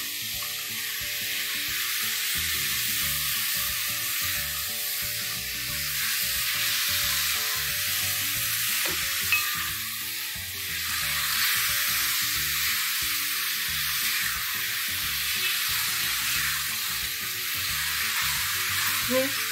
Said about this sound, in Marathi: आता ते एकसारखं हलवत राहायचं साखर विरघळेपर्यंत